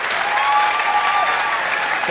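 A live audience claps steadily for a Kurdish Sorani singer, a dense, sustained burst of applause with even intensity from start to finish.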